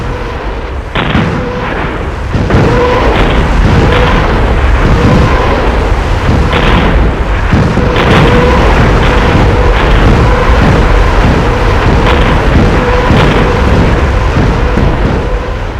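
Divisional artillery guns and rocket fire pound in a sustained barrage, with loud repeated booms and blasts at irregular intervals over a continuous rumbling roar, with no voices.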